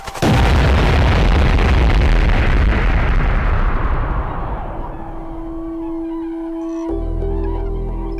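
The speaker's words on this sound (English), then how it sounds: "This is the Tunguska explosion." A huge Tunguska-style explosion over remote Siberian forest erupts at full loudness, a broad roaring blast that rumbles on for several seconds and slowly decays into a low, distant tail.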